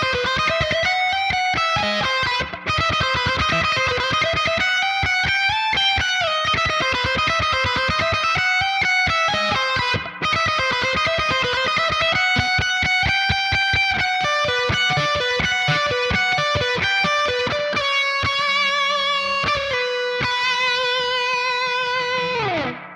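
Distorted electric guitar plays sustained lead lines through a 5150 Iconic amplifier with EL34 and 6L6 tubes and added reverb, loud and continuous with bends and fast melodic runs, played alone without talk.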